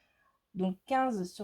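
A domestic cat meows twice in quick succession, close and fairly loud, while someone speaks French at a crafting table during a scrapbook album tutorial.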